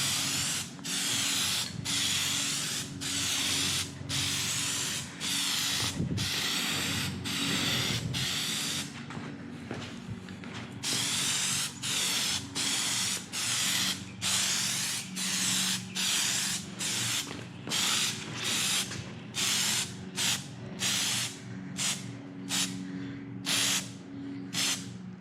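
Plasti Dip is sprayed onto the tail section of a Kawasaki Vulcan S in many short hissing bursts, close and steady, some longer and some quick, with brief pauses between them.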